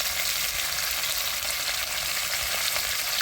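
A fish curry with green chilli, salt and turmeric fries loudly in a pan, a dense, constant sizzle with faint stirring and no voices.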